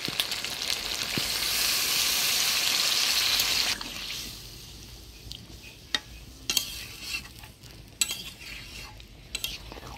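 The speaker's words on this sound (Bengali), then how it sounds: "আলুগুলো দিয়ে দিলাম, তার একটু কষে নেব মাংসের সাথে।" Potatoes fry with chicken curry pieces in a pan, giving a loud sizzling hiss for the first few seconds, then quieter sizzle broken by sharp clinks and scrapes of a utensil stirring against the metal.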